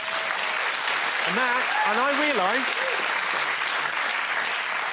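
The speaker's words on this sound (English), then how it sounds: "I realise that applause there suggests that this audience agree with me" Studio audience at a comedy panel show applauds steadily, a dense wash of clapping throughout, while someone speaks briefly over it partway through.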